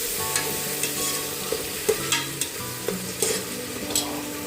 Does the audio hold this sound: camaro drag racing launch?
no